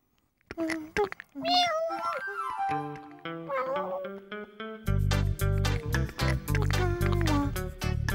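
Cartoon kitten on a farm giving a series of high, drawn-out meows and mews, loud and close, with a bright musical backing that enters partway through.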